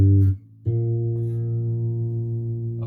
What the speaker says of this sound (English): That's a minor 7th shape on the bass.